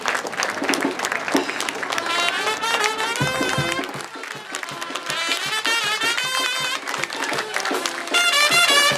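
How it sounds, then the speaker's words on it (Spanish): Sustained loud applause from an audience at a religious festival ritual honoring San Nicolás de Tolentino in Mixquiahuala, with clapping mixed with crowd noise and a festive background, continuing steadily throughout. "Otro aplauso muy fuerte para todos estos jóvenes."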